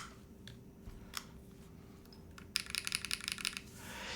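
Keys clack on a Yunzii AL66 mechanical keyboard with a slightly metallic tone: a few isolated taps, then a quick burst of close, crisp typing strokes near the end.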